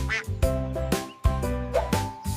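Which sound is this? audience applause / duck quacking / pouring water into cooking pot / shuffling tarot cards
duck quacking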